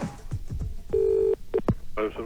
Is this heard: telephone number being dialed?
yes